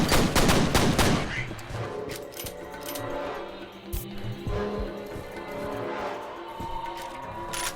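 Shotgun blasts and gunfire in the video game F.E.A.R., a dense cluster of sharp shots at the start followed by scattered metallic clinks and further reports over a busy game soundscape.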